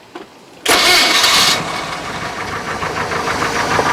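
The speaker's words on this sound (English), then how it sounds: "Definitely starts up a lot better. Starter is really loud though." A Mercruiser 120hp boat engine on a 1968 Starcraft Islander cranks on a loud starter and catches abruptly, then settles into a steady, rhythmic, pulsing run, close and loud.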